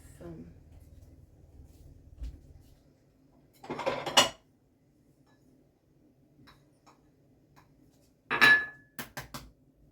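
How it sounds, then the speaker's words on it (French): An egg yolk being broken in a bowl with a utensil, giving short clinking and scraping bursts of metal against the dish with quiet gaps between them, while someone speaks. "je vais casser juste mon jaune d'œuf"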